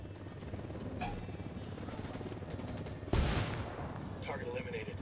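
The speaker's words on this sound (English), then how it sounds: "Helicopter inbound." A helicopter approaching in the Ghost Recon video game, a low rhythmic rotor thumping that runs steadily throughout, broken by a sudden loud burst of gunfire midway.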